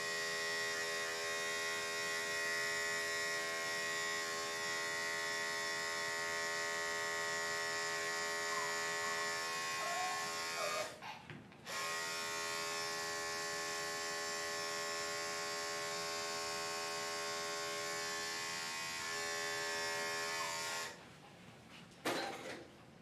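Electric clippers shaving a senior Yorkie dog: a steady, close, high-pitched buzzing drone that runs almost unbroken, with two brief dips where the blade shifts or lifts, and no talking.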